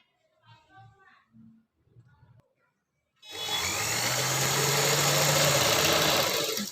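A sewing machine stitching the edge of kurta fabric, a steady close whirring hum that begins after someone speaks briefly and continues without a break.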